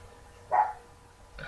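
One brief dog bark rings out from a distance against quiet background hum, and a second faint yelp starts just at the end.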